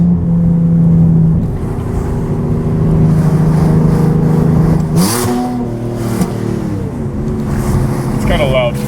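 A Nissan 370Z fitted with a cheap eBay catback exhaust drives by, its engine droning steadily with rising and falling revs and a shift change midway, loud and close, with a voice talking over it.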